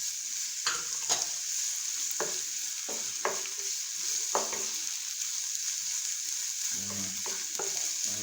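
Julienned tomato and sprigs of thyme sauté in a pan for ackee and saltfish, a steady sizzle under intermittent scraping stirs, close and moderately loud.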